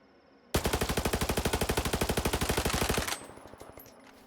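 A GP37 rifle fires a long automatic burst in the S.T.A.L.K.E.R. video game, a loud, rapid, evenly spaced stream of roughly thirty shots cutting in sharply and stopping abruptly, followed by a fading echo tail.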